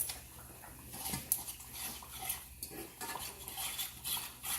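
Broccoli flakes being stirred into food in a pan, with a utensil scraping and clinking against the pan in a steady, moderately quiet run of stirring sounds.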